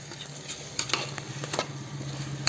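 Eggplant gravy gets stirred in a pan, a short stretch of spoon scrapes and light clinks over a steady low sizzle, close by.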